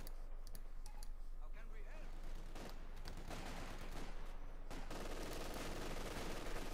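Machine-gun and rifle fire crackle through a Company of Heroes 2 battle, a dense, continuous rattle of gunshots beneath an ongoing commentator's voice.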